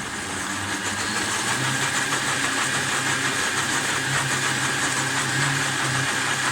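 A kitchen liquidiser running steadily at a moderate speed setting, a loud continuous motor whine and whirr close up with no pauses.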